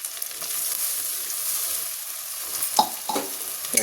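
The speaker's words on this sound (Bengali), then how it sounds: "তো টমেটো বাটাটা দিয়ে দিচ্ছি।" Tomato paste hits a pan of frying ginger-garlic paste and onions, giving a steady close sizzle with a few sharp clatters of stirring near the end.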